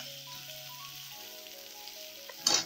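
Potatoes frying in a pan for a regional Etawah dish, a soft steady sizzle with a faint tonal hum, ending in a brief louder burst of crackle and stirring.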